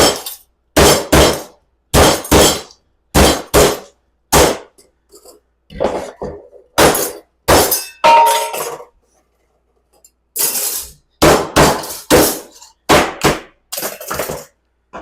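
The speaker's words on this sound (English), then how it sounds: "They're not welded together no more because I beat them to death." Dodge 48RE four-wheel-drive diesel transmission clutches being beaten apart, a series of sharp, loud metallic whacks and clanks in irregular bursts of two or three, close by, with brief quiet gaps between.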